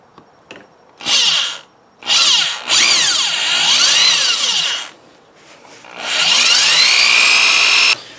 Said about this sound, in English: So let's go ahead and drill here.